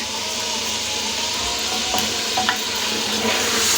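Mutton mixed with ground coriander and garam masala in a pan gives a steady, loud sizzle of frying with a few soft stirring scrapes, close by and without speech.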